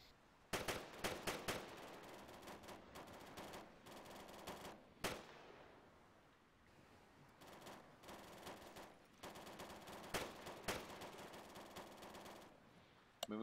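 Rapid automatic gunfire in a video game firefight crackles in repeated bursts with single sharp shots between, over a busy background of battle noise, fairly loud throughout.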